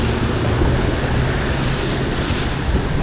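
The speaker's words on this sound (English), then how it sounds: "the wind's kind of picking up" Wind buffets the microphone during a motorcycle ride in rainy, gusty weather, a loud continuous rushing roar with a low rumble, steady throughout and without speech.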